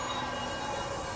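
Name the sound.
train exiting a tunnel in the video game Love and Deepspace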